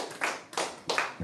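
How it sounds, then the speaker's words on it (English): Three sparse, sharp hand claps spaced evenly from a comedy club audience after a stand-up comedian's set, fairly close and without talk. "Clap it up for Alex"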